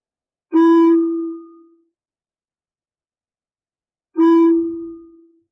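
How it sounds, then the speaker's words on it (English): A monastery bell rings twice, each a loud, clear strike with a long fading tone, separated by about three and a half seconds of silence. "The day's activities are regulated by a bell."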